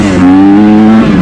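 A dirt bike spins around the corners on a farm. The engine rings loud and close with a sustained high-pitched whine that holds steady and then cuts off sharply at the end.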